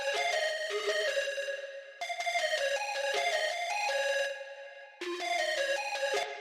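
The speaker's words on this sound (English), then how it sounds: "Next sound is another lead sound by Shinju" A bright, plucky synth lead plays a catchy repeating pattern in bursts with short pauses between phrases, loud and alone with no voices.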